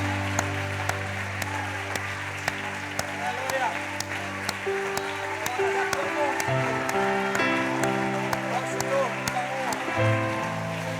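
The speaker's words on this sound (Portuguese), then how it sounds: "Você pode mais uma vez aplaudir a Jesus?" A church congregation claps along in a service while music plays, giving a steady, full clapping texture under sustained instrumental tones throughout.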